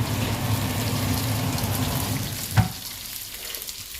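A vegetable bhaji sizzles steadily in a pan, a dense, close frying hiss that runs continuously with one brief knock partway through.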